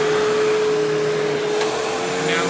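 A Hoover Windtunnel bagless twin chamber upright vacuum cleaner runs with a steady, loud motor whine and airy rush, a sustained tone throughout, close up with no talking.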